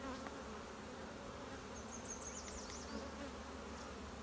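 Honey bees buzz steadily around an open hive during a strong honey flow, a dense continuous drone with occasional closer individual bees passing by.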